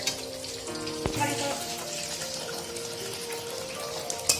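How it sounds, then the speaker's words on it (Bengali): Pieces of katla fish fry in a pan with a steady, rain-like sizzle and crackle that stays moderate and even throughout, broken by a couple of sharp clinks. "মাছও এখানে ভালোই ফ্রাই হয়ে গেছে"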